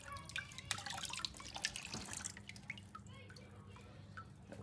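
Water from a Y-block Ford exhaust manifold drips in quick, close, quiet drops with small splashes over a faint low hum.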